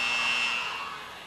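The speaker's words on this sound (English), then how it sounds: "There's the buzzer." A 1982 high school basketball game between McDowell and Rowan County hits the end of the first quarter with a single loud electronic buzzer blast lasting about half a second, then fading into crowd noise.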